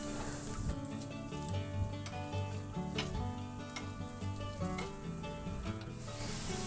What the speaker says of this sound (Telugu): ఈ విధంగా రౌండ్గా తిప్పుకుంటూ లైట్ బ్రౌన్ కలర్ వచ్చే వరకు వేయించుకోవాలి.